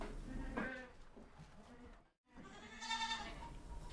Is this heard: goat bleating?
yes